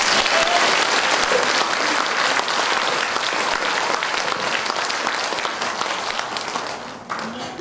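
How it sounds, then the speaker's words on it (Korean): Loud, sustained audience applause at a chapel dedication ceremony at the Naju shrine, a thick continuous wash of clapping that gradually thins and fades toward the end. "큰 박수로"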